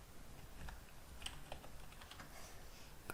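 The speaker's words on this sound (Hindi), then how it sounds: "तो अब हम यहाँ पर टाइपिंग स्टार्ट करते हैं।" Soft, irregular keystrokes on a computer keyboard, quiet individual clicks scattered in an uneven rhythm against a faint background hiss.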